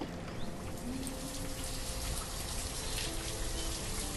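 Steady rain falling in the village-building game Banished, a continuous wash of drops and patter at even, moderate level with no pauses.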